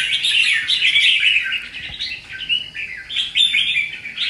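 A caged red-whiskered bulbul sings close by: bright, varied chirping phrases repeat almost without pause, with short breaks between bursts, and no one talks.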